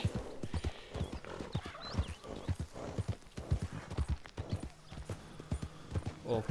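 Rhythmic clip-clopping of horse hooves at a steady trot in the video game Red Dead Redemption 2, fairly quiet, with a brief whinny-like tone and faint background music.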